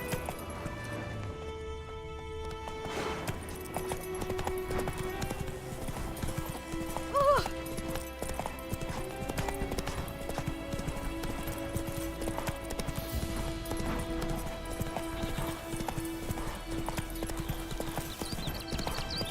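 Horse hooves clip-clop steadily along a road in the Witcher 3: Wild Hunt video game, a continuous trotting rhythm under ambient game sound, with a brief whinny and some voices.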